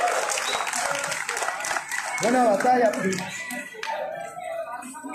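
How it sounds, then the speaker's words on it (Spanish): A school rap battle crowd applauds at a 2019 semifinal, loud clapping with cheers while a host speaks over it, the noise dipping and swelling. "¡Fuerte el aplauso, chinga!"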